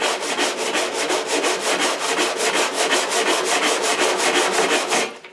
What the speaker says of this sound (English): I'll just use my little block sander here.